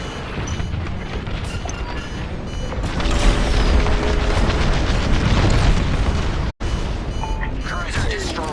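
A cruiser blowing apart in a space combat video game, a loud booming explosion swelling over ongoing combat noise and effects, with a voice speaking over the action and a brief dropout near the end.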